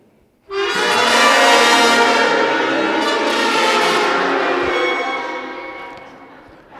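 A beginner sixth-grade middle school band plays badly: a loud, sustained, out-of-tune cluster of brass and woodwind tones that holds for about four seconds before fading.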